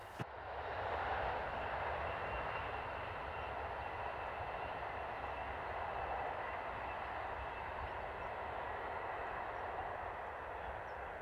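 An SNCF BB15000 electric locomotive hauls a train past, a steady broad rumble and roar of wheels and motors sustained at moderate distance, with no voices.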